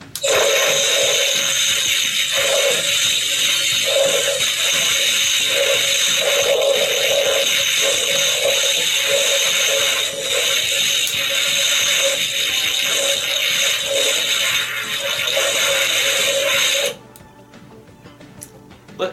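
A Spirit 2017 Ghostbusters proton pack replica plays its electronic sound effect: a loud, steady rushing hiss like a toilet flushing that runs for about seventeen seconds, then cuts off abruptly to near silence.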